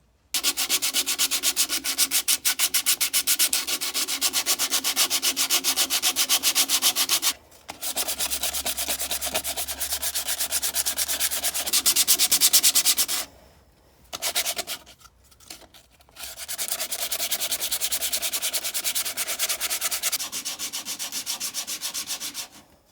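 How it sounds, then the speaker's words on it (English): Steady back-and-forth rubbing of sandpaper on a yew wooden bowl by hand, continuous strokes with a few short pauses between passes. "I might just show the odd clip of me hand sanding."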